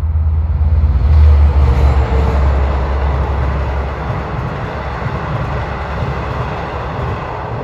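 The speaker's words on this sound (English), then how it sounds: "here comes train 18 from Hunters Point Avenue to Montauk" An LIRR train bound for Montauk rolls past at Elmont, a loud deep rumble of wheels and engine that swells early, then gradually fades as the cars continue by.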